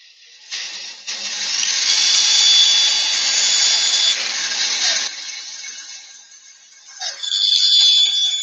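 A bandsaw cutting 18mm plywood: a loud, steady high whine with a raspy cutting roar that runs for about four seconds, drops away, then returns briefly near the end. No one talks.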